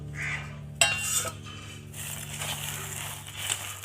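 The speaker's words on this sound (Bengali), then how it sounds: "দিয়ে এটা গুড়ের সাথে মেখে দেব" Roasted chickpeas are stirred into cooled jaggery in a pan, giving soft scraping and a sharp clink of utensil against metal over a low steady hum.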